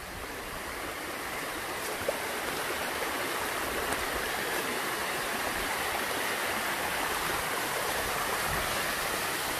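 A constant rushing roar of falling water, broad and steady, with no voices and no change in intensity.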